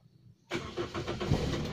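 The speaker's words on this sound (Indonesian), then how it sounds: "baru mobil ini kita starter semacam ini ya" A car engine is started with the starter after the electrics were switched off, then catches and settles into a steady mid-pitched idle, fairly close and moderately loud.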